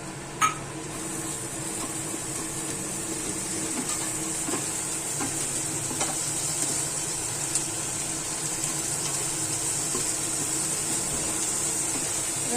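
Ginger and ground spices fry in a pan while chicken do pyaza is cooked, giving a steady, even sizzle that runs throughout, with a sharp metallic clink near the start and a few faint utensil taps later.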